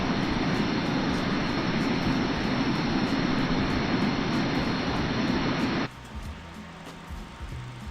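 Steady, loud roar of an MD-80 jet flying overhead in Microsoft Flight Simulator near Oakland's airfield, a constant broadband engine drone that cuts off abruptly near the end, leaving a quieter hum.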